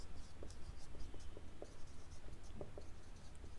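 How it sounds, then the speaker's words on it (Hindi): Pen writing on paper during an accountancy lesson gives soft, close scratchy strokes in quick irregular bursts, faint against a quiet room with no talk. "मैं थोड़ा पास पास लिख रही हूँ"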